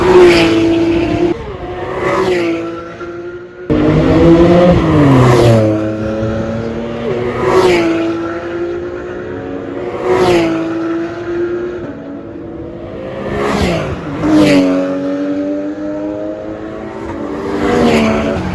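Race cars roar past one after another on the Val de Vienne circuit at a 2020 Porsche event, each engine rising in pitch and then dropping away, loud and repeated.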